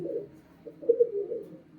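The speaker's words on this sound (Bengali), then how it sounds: "এটা হচ্ছে মাদি পায়রা বন্ধুরা" A female pigeon gives a soft, low, rolling coo close by, quiet and unbroken for a moment.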